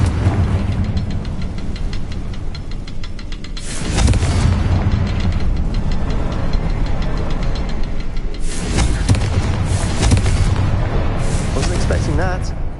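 Confringo fire spells explode in Hogwarts Legacy: two strong booming bursts crack out amid a constant roaring, rumbling game soundscape, the blasts spaced several seconds apart.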